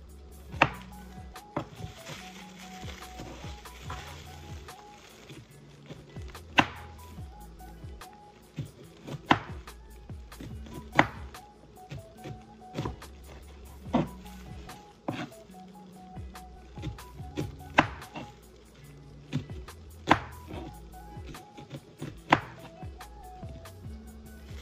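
A knife chops onion into small pieces on a board, giving sharp, distinct thuds at an uneven pace spread across the span, with quieter handling sounds and faint background music between strikes.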